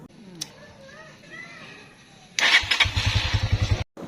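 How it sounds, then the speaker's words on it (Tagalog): A motorcycle's electric starter cranks and the engine catches with a rapid loud chugging, then cuts off abruptly, after a quieter stretch with faint background sounds. "Ayan at gumagana pa ang kanyang electric starter"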